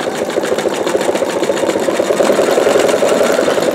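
An embroidery machine stitches out a bumblebee quilt block with a steady, rapid mechanical chatter of needle strokes. The sound is close and continuous, with no talking.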